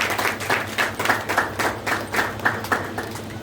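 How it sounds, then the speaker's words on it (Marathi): Clapping from a small audience at a Marathi book launch, just after the book's release, rising in uneven bursts of hand claps over a steady low hum, moderately close and without speech. "जोरदार टाळ्या झाल्या पाहिजे"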